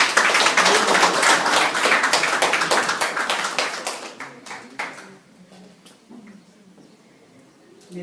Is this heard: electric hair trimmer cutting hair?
no